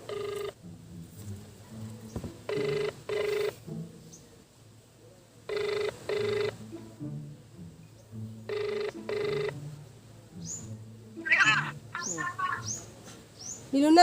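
A telephone ringing during a prank call, pairs of electronic ring tones repeating at steady intervals, with quiet background noise and brief voices near the end.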